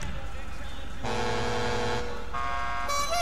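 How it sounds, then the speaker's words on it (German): A truck horn fitted to a car in the video game GTA V sounds in two loud sustained blasts, separated by a brief gap, over steady game background noise. "Dann machen wir LKW-Hupe, das passt ganz gut."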